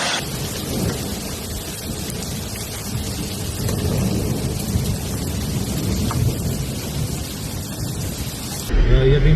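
Heavy rain pours steadily during a hailstorm in Valencia, a dense, continuous roar with low rumbling thunder underneath, loud and unbroken throughout.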